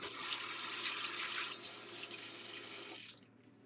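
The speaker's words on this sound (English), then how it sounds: "Wash my hands again." Hands are washed under a running kitchen tap with a steady, close rush of water that runs unbroken for about three seconds and then cuts off, with no talking.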